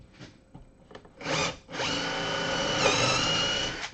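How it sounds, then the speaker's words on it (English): A power drill bores a screw hole into a wooden scroll-saw piece, starting with a few short bursts, then running in one steady, loud whine for about two seconds. "Let's see if I can drill this down without stuffing it"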